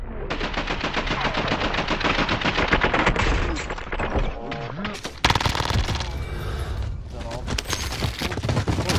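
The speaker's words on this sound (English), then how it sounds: "And a random shot comes in." Rapid gunfire bursts and single shots in a battle royale video game, loud and dense throughout, with a break partway and then more shooting, while a voice talks over the action.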